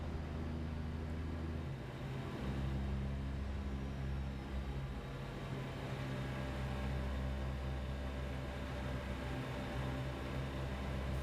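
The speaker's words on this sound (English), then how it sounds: "I feel like the AI traffic is still way too loud" AI traffic in American Truck Simulator, a steady loud drone of passing vehicles and road rumble heard from a truck cab, with a low engine hum shifting slightly partway through.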